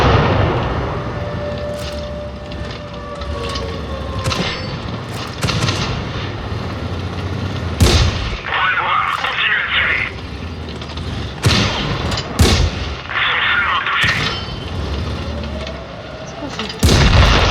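Cannon fire from tanks in World of Tanks Blitz, a series of sharp loud blasts scattered through the clip amid game sounds and engine drone, with people talking over it.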